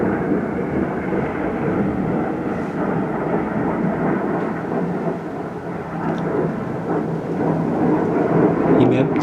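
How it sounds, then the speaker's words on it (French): An airplane passes overhead as a loud, sustained low rumble that swells slightly toward the end, a broad steady roar filling the background with no talk over it. "On va laisser passer l'avion."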